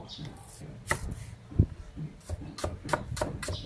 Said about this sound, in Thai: ตอนนี้คือการ ซอยหอมแดงก่อน เพื่อเตรียม ที่จะไป ปรุงใส่